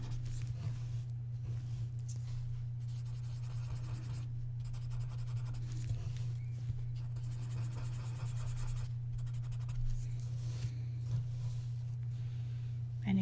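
Paper stump blending graphite on drawing paper, a faint, soft scratchy rubbing in short repeated strokes with brief pauses, under a steady low electrical hum.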